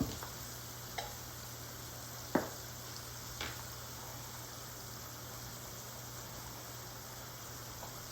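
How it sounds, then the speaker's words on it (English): Onions soften in a pan with a faint, even sizzle running underneath, interrupted by a few scattered taps and one sharper knock of a utensil. "cook my onions until they get soft"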